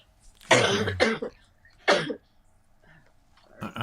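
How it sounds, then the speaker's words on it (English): Several harsh coughs close to the microphone, two quick bursts followed by a single one after a pause, with another starting at the end. "I got a cough."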